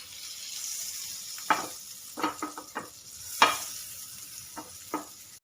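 Butter melts in a hot pan or tawa with a soft background hiss, broken by several short, sharp sizzling bursts and scraping stir sounds at irregular intervals, close and fairly loud, with no talking.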